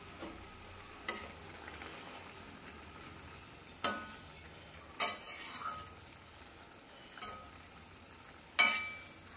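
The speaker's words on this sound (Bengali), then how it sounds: "দেখো, এবার ঝোলটা কিন্তু ফুটে উঠেছে।" Curry broth with fried mourala fish added simmers in a pan, a quiet, steady low hiss broken by a few sharp clicks or pops spaced several seconds apart.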